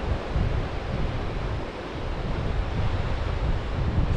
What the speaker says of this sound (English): The wind is quite breezy and very nippy.